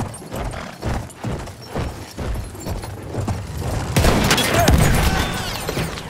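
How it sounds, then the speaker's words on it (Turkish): Machine gun fire in the World War I shooter Battlefield 1 on PS4, a fast rattling burst of shots over battlefield booms and rumble, growing denser and louder in the second half. "Orada bir makinalı tüfek var. Dikkat eyleyin, makinalı tüfek."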